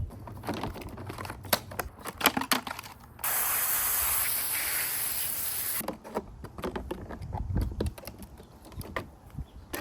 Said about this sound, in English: these paddles all pop off, and you just hose them off.